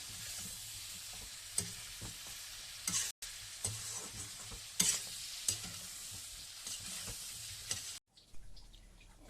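Pork is stirred in a frying pan with a steady sizzle, a spatula scraping and knocking at irregular intervals, and the frying noise dropping away sharply near the end.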